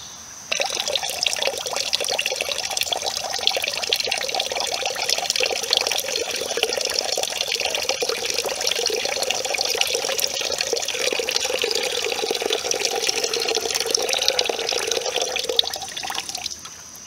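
Acid slowly poured into water in a plastic bucket while preparing to acid-wash bricks, giving a steady, close pouring and splashing of liquid that runs evenly for about sixteen seconds without talk.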